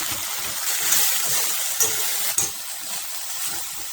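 Broccoli stirred in a pan on a home stove while its water cooks off, giving a steady close hiss and gush of steam with a few brief clinks or scrapes of the spoon against the pan.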